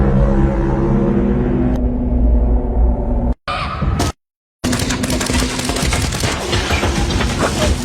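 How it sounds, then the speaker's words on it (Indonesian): Gunfight inside a building's private collection room, with bursts of gunfire against security guards amid loud booms and rumble, dense and continuous, broken by a short silence before the shooting resumes. "Elias pun terlibat baku tembak dengan para penjaga yang rata-rata punya basic di militer."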